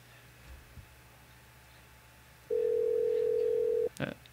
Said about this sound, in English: Yes, we can hear the phone ringing.